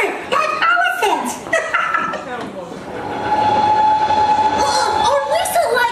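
A sustained train whistle sounds over rumbling rail noise, following a stretch of excited talk and chuckling.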